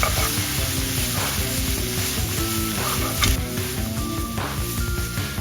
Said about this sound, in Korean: 깍둑선 양파 반개와 대파 한 대를 넣고 양파가 반투명해질 때까지 단골로 볶아주세요.